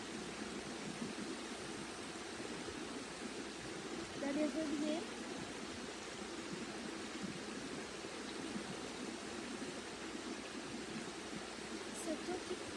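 Steady broadband rush of flowing river water, continuous and even throughout, with a soft voice speaking briefly in the middle.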